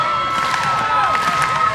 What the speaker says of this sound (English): These fans clapping.